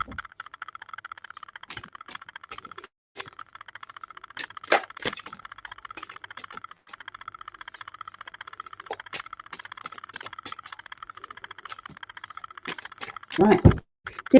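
Playing cards are shuffled over and over, a steady papery flicking and clicking with occasional sharper snaps and a louder burst near the end.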